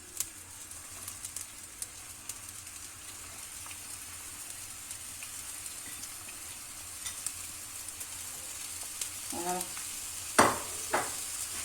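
Onions frying in oil in a home kitchen pan, a steady soft sizzle running throughout with a few sharper clatters and scrapes of utensils near the end; no talking.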